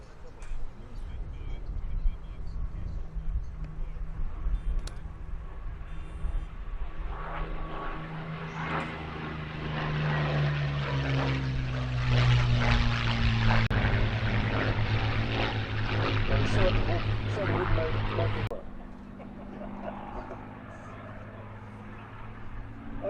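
Vintage warbirds, a Spitfire and a Messerschmitt, fly at an airshow, their piston engines droning in from a distance, swelling to a loud pass with shifting pitch and then fading, while people talk throughout.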